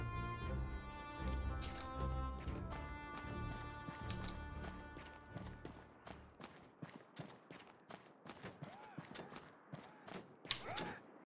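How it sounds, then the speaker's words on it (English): A horse gallops in the Conqueror's Blade video game, with a steady rapid clip-clop of hooves under a swelling musical score, the hoofbeats growing sparser and mixed with battle noise toward the end. "It's a horse."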